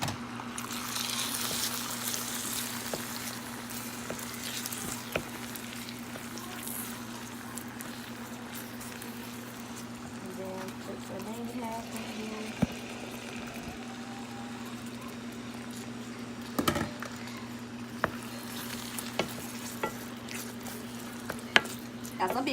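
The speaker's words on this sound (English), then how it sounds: "So now it's time to put our vegetables and our mushrooms back in." Mushrooms and mixed vegetables go back into a pan with a balsamic wine glaze and sizzle steadily at close range, with occasional stirring scrapes and soft knocks as the pan is worked; no talk.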